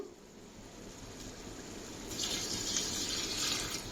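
Water pours steadily into a cooking pot for mutton biryani, a continuous splashing rush close by that swells louder midway and keeps running without talk.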